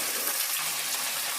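Green chillies, chopped tomato and onion fry in a pan, making a loud, continuous hiss that stays close and even throughout the short stretch, with no voices over it.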